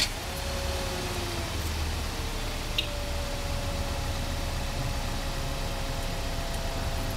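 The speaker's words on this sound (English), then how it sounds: "We're going to put 1 gallon of gas into the engine and idle it for 10 seconds." A car engine idling steadily for several seconds, a low, even hum with a faint whine on top, heard alone and at a moderate distance, with no change in pitch or speed.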